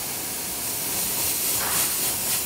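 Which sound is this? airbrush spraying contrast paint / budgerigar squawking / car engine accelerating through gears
airbrush spraying contrast paint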